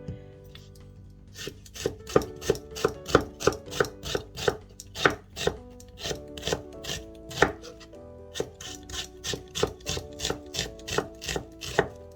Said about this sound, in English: Now I'm going to slice up half an onion.